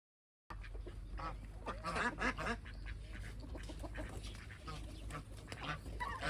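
Ducks in a mini zoo calling with repeated nasal quacks and honks, fairly close and continuous over a background of water spraying.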